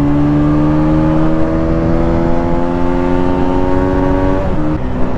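A 2012 Aprilia RS 125 motorcycle revs hard, its high, whining engine note climbing steadily and holding near the limiter before dropping sharply at the end, loud and close with no talk.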